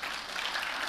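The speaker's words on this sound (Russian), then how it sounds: "Дайте аплодисменты Богу." Steady applause rises from a church congregation during a sermon, a dense, even wash of many hands clapping that fills the whole moment without a break.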